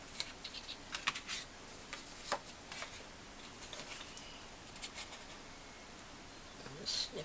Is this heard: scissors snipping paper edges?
yes